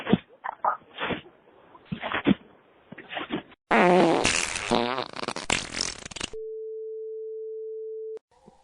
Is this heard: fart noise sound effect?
yes